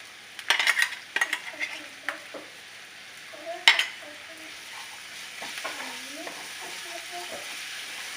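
Onions sautéing with a paste of coriander leaves, mint, green chilli, ginger and garlic for paneer biriyani sizzle steadily in a pan, broken by several sharp spoon scrapes and clinks as the mixture is stirred, with a faint voice murmuring underneath.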